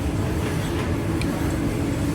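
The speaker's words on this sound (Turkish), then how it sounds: "Trenimiz geldi." A train on the Laos railway linked to China pulls into a station with a loud, steady mechanical rumble and rolling noise heard up close for a brief moment.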